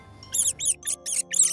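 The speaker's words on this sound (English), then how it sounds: "swan, mouse," Mouse squeaking in five quick, thin, high-pitched chirps with short gaps, close and fairly loud.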